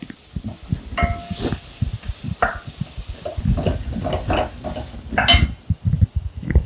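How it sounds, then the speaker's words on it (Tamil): Chopped onions sizzling and frying in a pan, with a spoon stirring and scraping against the metal in irregular bursts. "இதை நல்லா வதக்கிக்கணும்."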